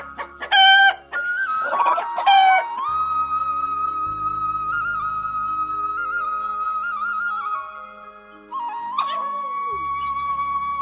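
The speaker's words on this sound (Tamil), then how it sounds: "இது எங்கள் தோட்டத்திலேயே வளர்த்த சேவல்" A home-raised garden rooster crows loudly several times up close, its long drawn calls broken by short clucks, with a low background hum underneath.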